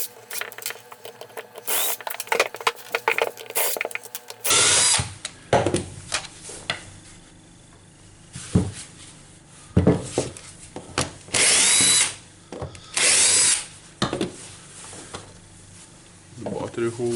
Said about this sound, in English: now I need to unscrew the old screws here